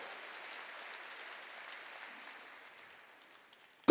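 A church congregation claps together in a soft, distant patter that gradually fades away to silence, followed by a sudden loud knock right at the end.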